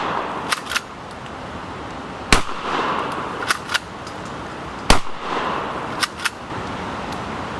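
Several sharp handgun shots crack out one at a time, fired from the hip in pitch darkness outdoors, with irregular gaps between the loud reports and a few faint metallic clicks.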